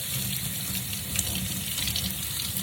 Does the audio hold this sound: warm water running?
yes